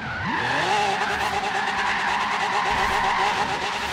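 Video game car drifting, tires squealing in a long sustained skid with a rising engine whine, loud and continuous throughout with no talk.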